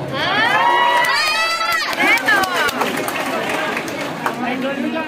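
Pageant audience at a Miss Gay 2022 event in Angeles City, Pampanga cheering and shouting for Julia Barreto, with loud whoops and high excited voices layered over a busy crowd din and scattered claps.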